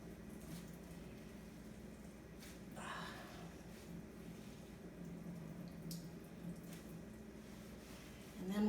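Cooked mushrooms are squeezed by hand to press out their water, giving soft wet squishing and trickling sounds at close range, quiet and continuous without talk.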